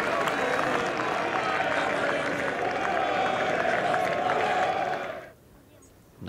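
A large golf crowd at the 2018 Ryder Cup roars in a loud sustained cheer and applause, then cuts off abruptly near the end, leaving quiet.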